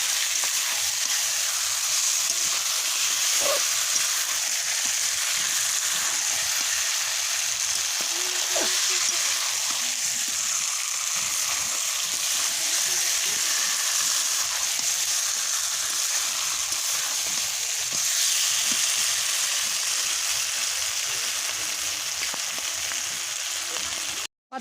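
Chicken curry sautéing in a pan, a loud, continuous hissing sizzle that holds steady throughout with a few faint knocks of stirring.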